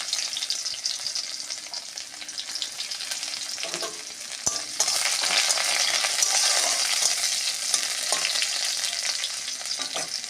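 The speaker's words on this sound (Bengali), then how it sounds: "ফোড়ন দেবো কালো জিরে, পেঁয়াজগুলো, এই রসুনগুলো দিয়ে দিলাম।" Nigella seeds, onion and garlic fry in hot oil while being stirred, a steady close sizzle with scraping stirs and a sharp clack midway, growing louder and more intense in the second half.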